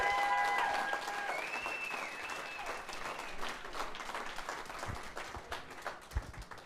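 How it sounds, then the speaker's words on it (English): Audience applause for a high school jazz combo at the Bop Stop club, a dense steady clapping that fades slightly and thins toward the end, with faint tones lingering at the start. "Another round of applause for the Jazz Combo."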